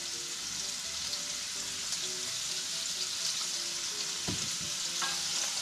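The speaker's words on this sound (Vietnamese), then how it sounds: "chỉ xào sơ lên cho nó chín" Rice noodles and egg sizzle steadily in a hot pan as they are stir-fried for a simple breakfast, with a constant loud crackle and a few scrapes of stirring near the end.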